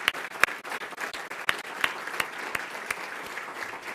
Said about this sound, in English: please join me in a really robust round of applause and a big thank you